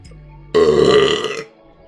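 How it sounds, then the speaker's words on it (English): A single loud, close burp lasting about a second, breaking an otherwise quiet moment. "Hold up, I need to burp."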